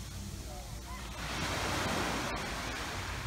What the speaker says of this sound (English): The waves are very small.